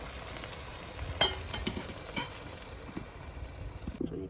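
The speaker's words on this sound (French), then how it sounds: "nous allons ajouter notre jus de viande à notre riz" Meat juice poured into a pot of rice as it sizzles for riz au gras, a steady frying hiss with a few clinks and stirring knocks, then a sudden drop near the end.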